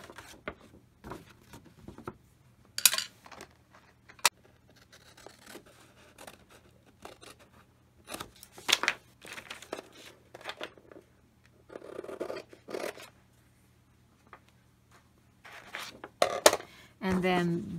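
Scissors snip and slide through a paper travelers notebook folder insert in scattered short bursts, with quiet rustling and handling of the card between cuts.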